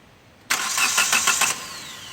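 A Hyundai i20 with a misfire and loss of power cranks with a rapid pulsing whir for about a second, then catches and settles into a steady idle, heard close and loud.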